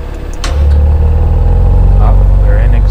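A 2018 Audi RS5 starts up as its exhaust opens, a deep, steady engine rumble swelling after a brief quieter moment and then holding loud and close throughout.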